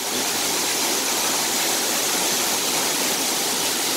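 A waterfall pours in a continuous, dense broadband rush, close and loud, with no voices over it.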